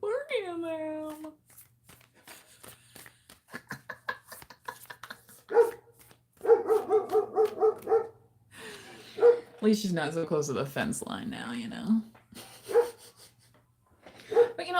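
A dog barks in short repeated bursts with some whimpering near a backyard fence line, mixed with close talking by several people, loud and intermittent throughout.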